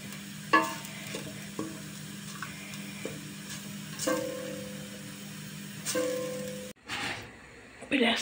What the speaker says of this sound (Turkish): Güzelce kavuruyorum.